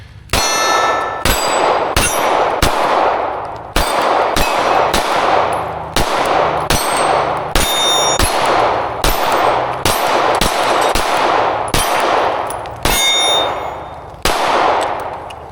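An MC9 Prime pistol fires 124 grain brass rounds from an extended SFX Pro magazine, a string of sharp, loud, ringing shots at a fairly even pace with short pauses between small groups.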